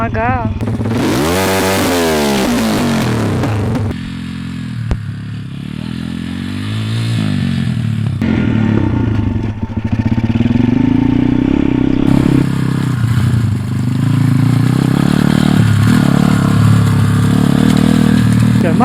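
An MRF pit bike engine buzzes loudly and close while ridden in second gear, its pitch rising and falling with throttle changes over a rattling, clattering undertone, with voices talking over it.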